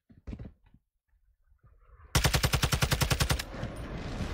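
Rapid burst of AR rifle gunfire in a first-person shooter video game, about a dozen sharp shots in quick succession, loud and close, then fading into noisy game ambience after earlier brief voice sounds.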